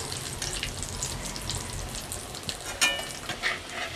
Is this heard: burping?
no